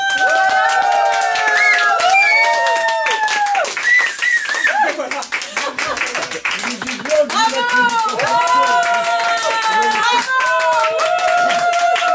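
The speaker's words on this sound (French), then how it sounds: "On applaudit très fort!" An audience claps along on a French TV programme while lively music with sung or whistled melodic lines plays loudly over it, the rhythmic clapping partly buried beneath the music throughout.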